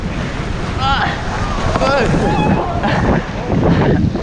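Big ocean waves breaking around a surf kayak, a loud rushing wash with heavy wind buffeting the microphone, while a voice speaks over the surf.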